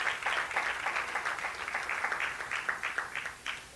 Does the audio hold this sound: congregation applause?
yes